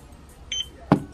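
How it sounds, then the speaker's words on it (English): A eufyCam wireless security camera gives a short electronic sync beep, one brief tone followed by a soft click, close and isolated. "press the sync button for 2 seconds until you hear a beep"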